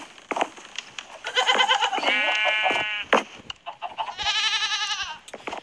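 Goats bleating in the Minecraft video game, several loud wavering cries in a row, close and clear with short clicks and thumps between them, no talking.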